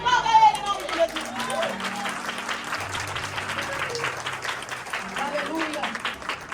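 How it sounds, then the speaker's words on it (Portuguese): Church congregation applauding during a sermon, steady clapping under continuing voices and some harmonic tones, moderately loud throughout. "Aplauda ele em nome de Jesus."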